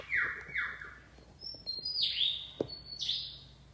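A bird sings a series of sharp, descending whistled chirps with a brief click in the middle mimicking a camera shutter, clear and fairly close against a quiet background.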